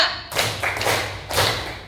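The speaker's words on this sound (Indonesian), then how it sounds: "Tepuk 3." Three hand claps in a quiet room, close and clear, the first two quick together and the third after a short pause, each leaving a brief ringing decay.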